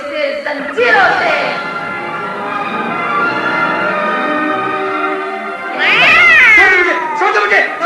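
A black cat sound effect in a Hindi cassette audio drama: loud, drawn-out meowing and wailing caterwauls that swell and bend in pitch, close and prominent.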